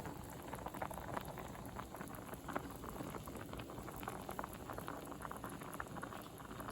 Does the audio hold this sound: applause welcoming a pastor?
no